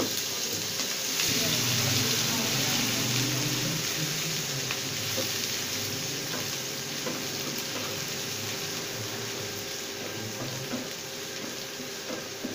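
Chopped onions sizzle steadily in hot ghee with roasted cumin seeds, a dense, continuous frying hiss that stays close and even throughout, with faint stirring clatter underneath.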